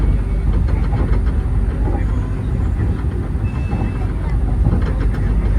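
Continuous rumbling rattle of an economy-class train carriage in motion, loud and close, with faint clicking and clacking from the suspension or wheels running through it.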